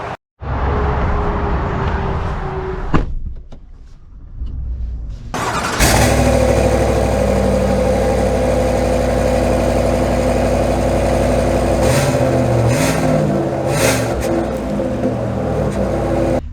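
A 2024 GMC Sierra 1500 AT4X pickup starts after a brief rustle, then its engine settles into a loud, steady close drone with a few short swells of revving.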